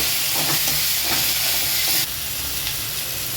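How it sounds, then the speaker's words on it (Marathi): Chopped onion with ginger-garlic paste sizzles and hisses in a hot pan for a Marathi matki usal, with a few stirring scrapes; the sizzle drops slightly in level partway through. "एक चमचा आले लसूणची पेस्ट आहे ती टाकून घेऊया आणि चांगलं परतून घेऊया"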